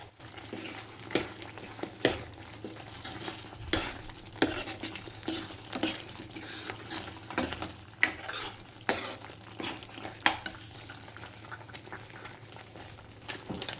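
A spoon stirs ghee-fried cashews into a thick masala simmering in a pan, making repeated scraping clacks against the metal. A soft bubbling sizzle runs underneath for about fourteen seconds.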